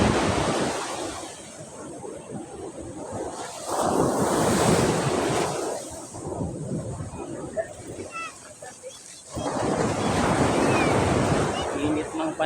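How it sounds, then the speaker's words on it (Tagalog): Large ocean waves surge and crash in rolling swells, with strong wind buffeting the microphone and a voice faintly audible beneath. "Itong alon, masyadong malalaki."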